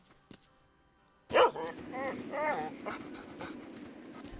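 Dogs in the video game S.T.A.L.K.E.R.: Shadow of Chernobyl panting and whimpering up close after a sudden loud onset, with faint game ambience before and no talk.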